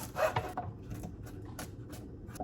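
A knife mincing garlic cloves on a cutting board in a home kitchen, a run of quick close chopping taps, strongest at first and then spaced out, with no talk.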